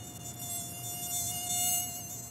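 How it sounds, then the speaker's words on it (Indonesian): A mosquito whines inside a bed net, a steady close high-pitched buzz that holds without a break and swells slightly in loudness. "nyamuk nakal itu menghampiri mereka yang terjebak di dalam kelambu"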